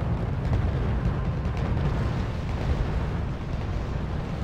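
Rumbling artillery fire in the World War II strategy game R.U.S.E., a dense, continuous barrage of deep booms and bursts rolling together without pause.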